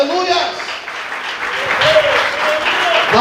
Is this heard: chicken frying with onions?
no